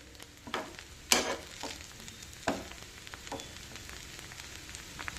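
Boiled jeera rice is mixed in a pot with a few soft scraping, stirring strokes, one louder scrape standing out, over a faint low simmering hiss.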